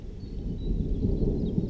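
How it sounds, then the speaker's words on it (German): Thunder from a storm building over a valley basin in the Black Forest mountains: a brief, deep, continuous rumble heard from a distance, with no voices. "es braut sich gerade über dem Talkessel ein Gewitter zusammen"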